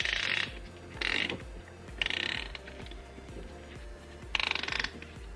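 A ring compressor is tightened around piston rings by twisting a tool during a 2JZ engine build for an E46 conversion, heard as four quick ratcheting bursts with pauses between them over a faint low hum.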